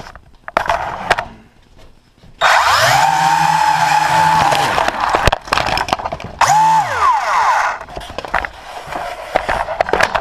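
A hard-to-control car drifts and skids, with loud, close tire squeals rising and falling in two long bursts over engine noise, separated by short quieter gaps.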